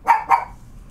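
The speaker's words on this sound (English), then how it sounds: "Okay, and since Indy's barking, I'm so sorry." A dog barks twice in quick succession, close and fairly loud, heard behind a live game stream, with no talk over it.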